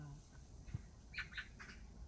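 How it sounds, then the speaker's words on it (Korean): Birdsong on a mountain in spring, with a few short chirps and calls sounding at a moderate distance over a quiet outdoor background with low rumble. "새소리 들리시죠"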